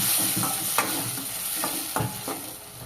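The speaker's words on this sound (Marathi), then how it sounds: "मीठ घातल्याच्या नंतर मिक्स करून घेऊया" Chopped tomatoes with salt are stirred in a sizzling pan for chana masala, with a steady frying hiss under repeated scraping strokes of the spoon, close and fairly loud.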